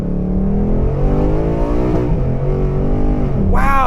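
A 2023 Ford Mustang Mach 1 accelerating hard in track mode, its engine note climbing steadily, then a quick gear change and a fresh rise in pitch near the end. The engine is loud and close, with no talking.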